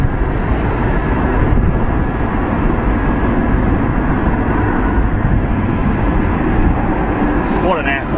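A Qantas airliner comes in to land with a loud, steady jet roar that holds throughout and sits under people talking.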